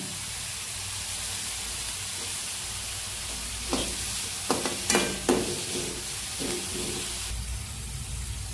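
Onions are stirred in a frying pan while cooking a bundhi curry, a steady hiss of sizzling oil with a cluster of sharp spatula scrapes and clinks against the pan in the middle.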